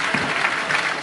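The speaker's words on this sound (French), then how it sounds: "Et là, très applaudi." A crowd at the Bastille Day military parade in Paris applauds marching Indian troops, a brief burst of dense, steady clapping heard from a moderate distance.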